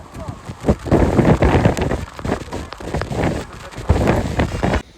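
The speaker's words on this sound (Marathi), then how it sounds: "भयंकर पाऊस आहे" Heavy rain pours steadily with gusts of wind buffeting the microphone and low rumbling by the sea in Goa, loud and close, while a voice speaks at times underneath.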